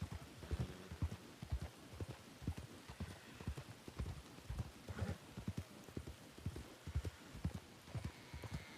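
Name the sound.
horse rider hoofbeats approaching in RedM video game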